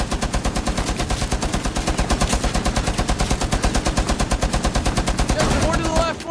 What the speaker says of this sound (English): Keep shooting, Justin. Keep shooting.